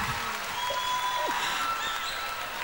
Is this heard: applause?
yes